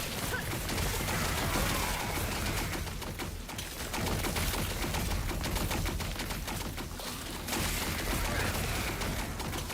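A spell in the action RPG Last Epoch firing rapidly like a machine gun, a dense continuous stream of quick shots with a brief lull midway, fairly loud amid game noise.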